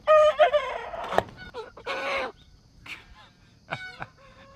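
Big red broiler chickens on a farm attempting to crow on a humid morning: several strained, ragged crowing calls in short bursts, close by, with clucks and other fowl noises between them.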